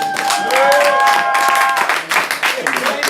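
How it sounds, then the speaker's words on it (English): A poetry slam crowd in Orlando claps for a performer as placings are announced, a dense wash of applause running steadily under a sustained tonal hum before loosening into sparser claps. "Give him a round of applause."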